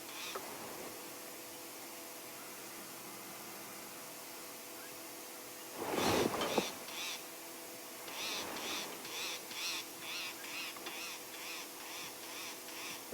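On a wildlife safari, a bird gives repeated alarm calls at hyenas, a rapid series of sharp chirps coming in quick bursts after a brief louder rustle, heard over faint ambient background.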